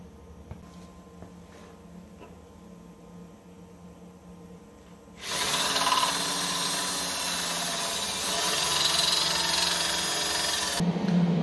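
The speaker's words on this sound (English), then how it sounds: "we'll get a couple of holes drilled in here" A power drill bores holes through a metal bracket for a hydraulic diverter valve in a workshop. After a quiet start, a loud, steady grinding whine runs for about six seconds and then cuts off abruptly.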